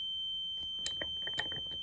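An ignition timing tester on a Morris G5 magneto emits a steady high-pitched electronic beep continuously, with faint clicks and knocks underneath.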